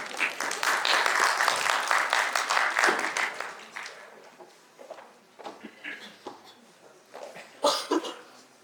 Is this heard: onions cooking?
no